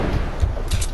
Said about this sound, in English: And then I shoot the rocket launcher again at it.